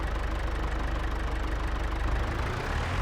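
A tractor engine idles steadily in Farming Simulator 22, a dense low rumble with a fast, even knock that stays loud and constant throughout, with no talk over it.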